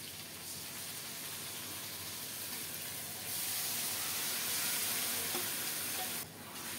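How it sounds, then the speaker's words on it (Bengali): Marinated mutton pieces dropped into a pan of hot oil with fried onions, setting off a steady, loud sizzle and hiss that swells midway and continues without pause, with no voices. "এখন মাখিয়ে রাখা মাংসগুলো দিয়ে দিচ্ছি।"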